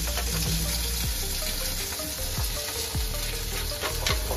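Tomatoes dropped into hot oil, heard as a dense, loud, continuous frying hiss with a few faint scrapes and clinks of a spoon underneath.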